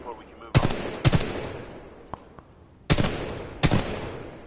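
Gunfire on a video game shooting practice range: four loud, sharp shots in two spaced pairs, plus one fainter click-like report between them, each with a short ringing decay over low background noise.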